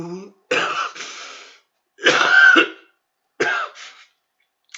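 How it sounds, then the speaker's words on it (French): Three harsh smoker's coughing fits from a heavy smoker, close to the microphone, separated by short silences, the middle one longest and loudest. "Je fume énormément et ça, c'est que ça me fait tousser."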